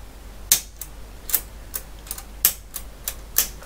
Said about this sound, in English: you can see the keys now all move very nice and freely